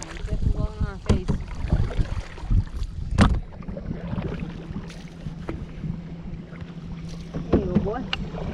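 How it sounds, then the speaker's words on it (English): Wind blows against a small boat out on the water, with steady gusty rushing and microphone buffeting, scattered knocks and splashes of the hull, and a voice speaking briefly. "I think right now the wind's against us. It's definitely blowing on our face."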